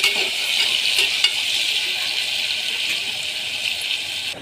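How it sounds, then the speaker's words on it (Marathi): Onions with soaked masoor and toor dal and rice roasting in a pan for khichdi, a steady close sizzle with faint occasional scrapes of stirring and no voices. "आपला कांदा वगैरे सगळं व्यवस्थित भाजला जातो आहे"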